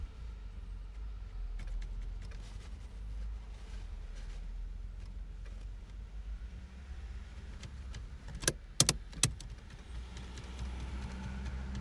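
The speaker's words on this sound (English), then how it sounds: "I hear the relay clicking whenever I push it." A few sharp clicks from a relay in a Firebird's horn circuit, a brief close cluster of three or four snaps heard against a quiet room hum.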